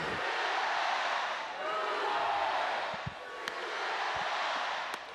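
Cheering softball crowd at the Women's College World Series Finals between Oklahoma and Texas, a broad, steady roar of many voices that swells and dips over several seconds, with a few sharp claps or bangs.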